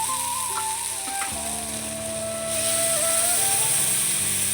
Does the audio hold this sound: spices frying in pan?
yes